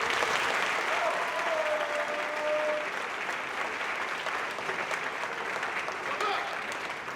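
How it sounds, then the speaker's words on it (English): Audience at a university college-bound scholars event claps steadily and densely for about seven seconds, a broad sustained wash of hands with a faint voice or whistle briefly audible near the start. "I want you to clap your hands"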